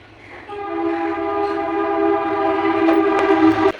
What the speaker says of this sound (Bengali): মনে হয় বাংলাদেশের ট্রেন হতে পারে এখন প্রায় দিনই একটা করে বাংলাদেশের ট্রেন যায় আবার আসে